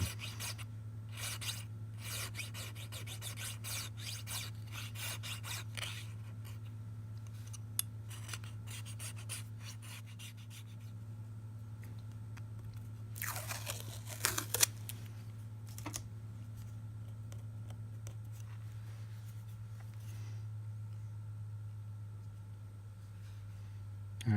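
A contrabass clarinet mouthpiece is hand-filed in short, uneven rasping strokes over a low steady hum, with a brief louder scraping burst midway. The filing is close and quiet, and no one speaks.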